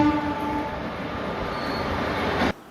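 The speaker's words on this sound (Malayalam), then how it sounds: "ആ പാലത്തിന് താഴെ കൂടിയാണ് ഈ ട്രെയിനുകൾ പോകുന്നത്." A train rumbles steadily beneath a railway overbridge, a continuous loud rolling roar with a faint horn-like tone, cutting off abruptly at the end.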